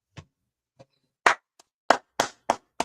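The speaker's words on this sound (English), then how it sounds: "Go ahead, clap it up." Scattered claps in a congregation at a Sabbath church service, a handful of sharp individual hand claps spaced irregularly, close and alone with no talk over them.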